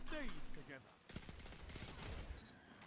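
Rapid bursts of pulse rifle fire from the Redrix Broadsword in Destiny 2, crackling in quick repeated volleys amid game action, with a voice talking faintly alongside.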